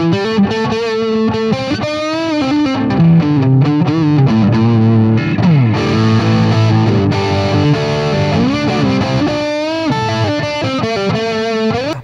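A Paul Reed Smith Custom 24 electric guitar on the neck pickup plays a continuous line of notes and chords through a slight delay, loud and close with no talking.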